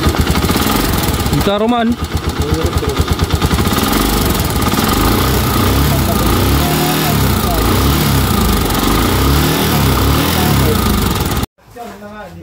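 A motorcycle engine with a faulty cam follower runs loud and steady up close, with a rough, knocking clatter throughout. A short voice speaks over it before the engine cuts off near the end.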